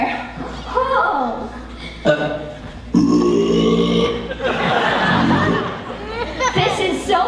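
Long, drawn-out burps from a singer in a musical film scene, several voiced belches rising and falling over several seconds amid chuckling and background chatter.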